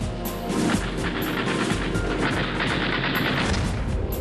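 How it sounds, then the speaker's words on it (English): The nose-mounted armament of a Lockheed P-38 Lightning, four .50 caliber machine guns and a 20 mm cannon, fires in a loud, dense, continuous rattling barrage with no pauses. "they were able to put the 4 machine guns, 50 calibers, in the nose along with a 20 millimeter."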